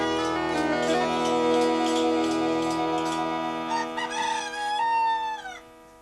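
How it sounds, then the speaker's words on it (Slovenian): A cartoon rooster crows over bright background music, its long rising-then-falling call stretched out near the end, clear and prominent with no talk. "Če bi Petelin zjutraj ne zapel, bi še vsi drnjohali kot trnjulčica."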